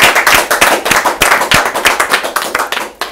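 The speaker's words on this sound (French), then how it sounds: "Ça mérite des applaudissements." Studio audience applause on a French television show, a brisk run of sharp individual claps from a modest crowd, loud and close, steady for about three seconds with no talk over it.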